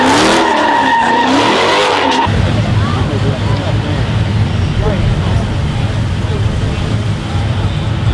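Several cars revving hard and skidding with tire squeal at a small outdoor pit gathering in Chicago, loud and continuous after a brief opening, with crowd chatter underneath.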